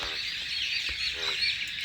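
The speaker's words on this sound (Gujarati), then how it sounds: "પેલો દેડકો બોલે." Repeated frog croaks at a rain-filled village pond, a few rhythmic calls, over a dense steady hiss of insects or running water outdoors.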